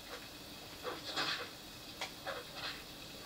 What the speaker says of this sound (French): Chien de Nyx, alors ça, c'est des bestioles un peu bizarres